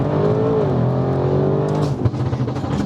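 An 830 bhp Audi RS6 C8 accelerates hard in first gear, heard from inside as a loud, rising engine roar with shifting harmonic tones and a brief rough burst near the end.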